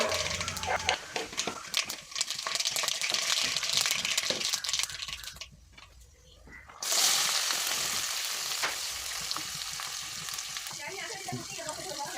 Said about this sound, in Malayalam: അത് നന്നായിട്ട് ചൂടായപ്പോഴത്തേക്കും കുറച്ച് കടുക് പൊട്ടിച്ചു